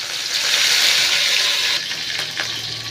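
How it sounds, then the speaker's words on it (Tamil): Mustard seeds and cumin splutter in hot oil, sizzling and spattering loudly and continuously up close, then easing to a lighter crackle with a few scattered pops. "கடுகு நல்லா பொரிஞ்சிச்சு."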